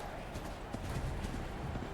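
Horse hooves clip-clop in Horizon Zero Dawn, a steady trotting rhythm set against game ambience, with a voice speaking over part of it.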